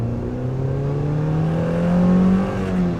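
Mazda NC Miata fitted with a Track Dog Racing intake pulls hard in second gear, its throaty engine note rising steadily in pitch as it accelerates, loud and close with no talk.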